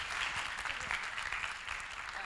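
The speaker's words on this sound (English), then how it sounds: "Give her a round of applause, guys." Audience applause in a small live talk setting, a steady wash of clapping hands filling the whole moment without any voices over it.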